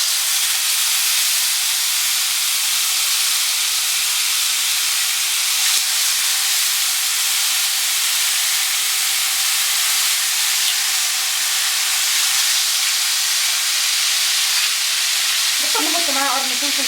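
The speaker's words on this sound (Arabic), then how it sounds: "هنبتدي بقى نشوي صدور الفراخ" Chicken breasts in olive oil on a stovetop grill pan, a steady, loud, broadband sizzle that holds evenly throughout, with a brief scrape near the end.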